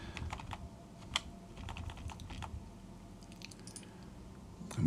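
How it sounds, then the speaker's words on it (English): Keys on a computer keyboard, mostly WASD, are pressed during a strategy game session, giving a steady run of close, soft clicks and taps with a few sharper strokes, with no talking. "I keep pressing the WASD keys"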